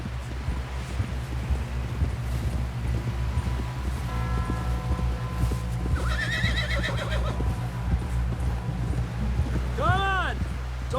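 A horse in the video game Red Dead Redemption 2 gallops with steady hoofbeats under constant game ambience and voices, then lets out a loud, rising-and-falling whinny near the end.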